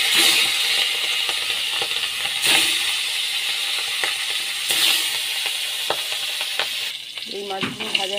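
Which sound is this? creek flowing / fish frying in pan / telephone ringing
fish frying in pan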